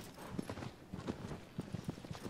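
Hooves of the horse Agro in the video game Shadow of the Colossus: a quiet, rhythmic clip-clop of repeated hoofbeats at a walking pace, evenly spaced and faint, with no talk over it.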